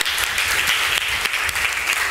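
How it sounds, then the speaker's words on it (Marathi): A church congregation claps together in thanks, a dense, loud burst of many hands applauding steadily throughout. "या सर्व चमत्कारांसाठी टाळ्या वाजून प्रभूला धन्यवाद देऊया"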